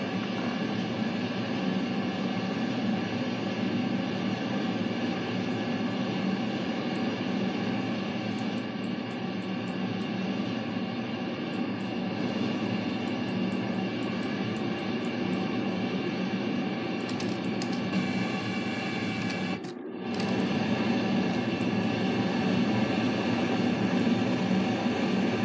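Spaceplane engines firing at maximum thrust in Kerbal Space Program, rapier and scramjet engines included: a steady, dense roar like rushing wind that holds for the whole stretch, briefly cut by a short dropout near the end, with no voices.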